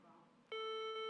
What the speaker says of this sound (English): I just unplugged our buzzer.